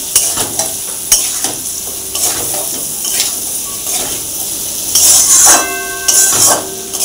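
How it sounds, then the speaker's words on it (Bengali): Potatoes tossed and stirred through a spice mix in a hot pan for egg curry, with repeated metal spatula scrapes and clinks against the pan over a constant frying sizzle, close and loud. "এবার আলুগুলো দিয়ে নেড়ে নেব, ভালোভাবে মিশিয়ে নেব মশলাগুলো আলুটার সঙ্গে"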